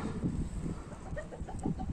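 Soft, scattered clucking from several white chickens huddled close together, low and murmuring over a faint background hiss.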